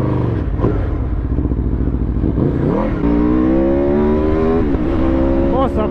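Yamaha R6 sport motorcycle engine revving hard and accelerating on a twisty road, a loud close high-pitched wail climbing steadily through the gears with rising and falling pitch sweeps.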